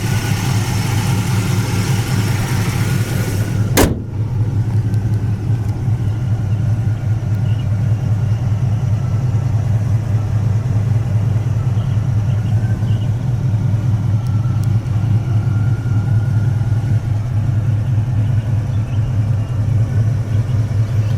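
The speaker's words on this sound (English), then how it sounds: "Motor seems to run great." A 1981 Pontiac Firebird engine idles with a steady, deep rumble throughout, with one sharp click early on and no talking over the continuous running.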